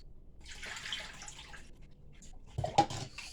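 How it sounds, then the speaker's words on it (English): Juiced sorrel liquid is strained in a pot in a sink, with a soft watery rush and a brief louder splash near the end. "I juice it out, so now I'm straining it"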